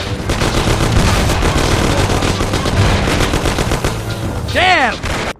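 Dense, loud automatic gunfire rattles without pause through a firefight in the Mafia video game, rapid bursts layered over one another, with a short whistling sweep near the end before the shots cut off.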